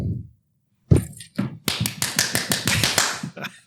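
One person claps hands in a quiet room during a podcast conversation: a single clap, a pause, then a quick run of about a dozen sharp, close claps.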